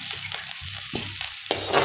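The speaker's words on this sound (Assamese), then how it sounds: "পিঁয়াজখিনি অলপ ব্ৰাউন কালাৰ হ'বলৈ দিম" Sliced onions fry in a little oil in a pan, a continuous close sizzle broken by several scraping stirs of a spatula.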